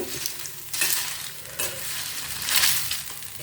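Fried papad pieces coated in chili powder are stirred in a hot pan, making close, soft sizzling with a few brisk scraping sweeps of the spatula.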